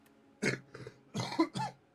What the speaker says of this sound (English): I just started coughing while talking